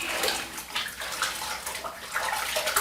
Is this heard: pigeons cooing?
no